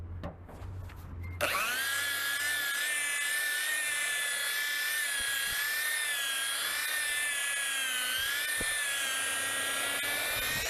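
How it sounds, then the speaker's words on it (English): A power buffer grinding rust off a car body panel, a loud sustained high whine that starts after a quiet moment and holds steady to the end, with no talking. "Buff the rust and everything."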